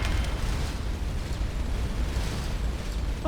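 Plasma cannons firing on auto fire in the space game Starcom: Unknown Space, a dense rumbling roar of overlapping blasts, loud and steady throughout with no clear gaps.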